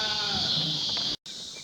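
Sheep bleating on a homestead, a single loud, close, wavering bleat that cuts off abruptly, followed by faint background noise.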